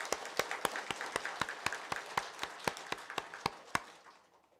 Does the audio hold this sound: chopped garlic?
no